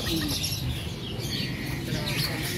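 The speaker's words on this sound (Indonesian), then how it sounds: "ada pasar burung merpati campur" Pigeons and other birds at a mixed bird market coo and chirp amid steady background noise and low rumble, with faint voices and calls overlapping throughout.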